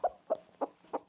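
A rooster held in someone's arms gives four short, close clucks in an even rhythm.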